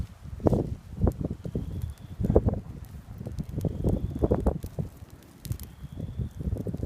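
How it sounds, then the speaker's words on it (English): An outdoor campfire crackles and roars in gusting wind, with bursts of rumbling buffet and rustling swelling and fading close to the microphone. "the wind is just really flaming the fire right now"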